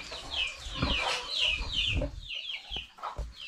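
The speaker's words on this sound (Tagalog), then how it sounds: "Maraming manok, oh." Several chickens cluck and squawk close by, overlapping bursts of busy cackling with brief pauses between calls.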